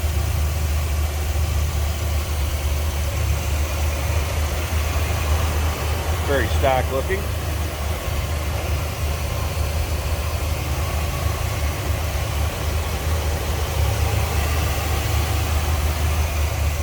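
A 1957 Cadillac Series 62 four-door hardtop idles with its 365 V8 and automatic transmission, giving a steady, even low rumble throughout, while someone speaks briefly over it near the middle.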